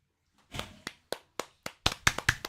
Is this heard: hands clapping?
yes